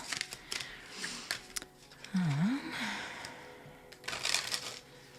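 Worn tarot cards being shuffled, soft papery riffles and flicks recurring irregularly and fairly quietly, with breathy sighs and gasps from a person in between.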